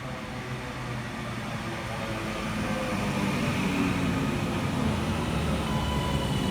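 Northern train 331-101 on the Alderley Edge to Manchester Piccadilly service rumbling through Heaton Chapel station, a broad roar of wheels on rails that builds and stays loud close by, with no talk.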